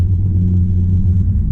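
Big-turbo Ford Falcon XR6 running on E85 while driving, a steady low engine rumble and drone from inside the cabin, loud and even throughout with no speech.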